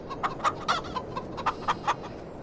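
Chickens in Farming Simulator 22 cluck in a quick series of short, moderately loud bursts over a steady background hum, with no one talking.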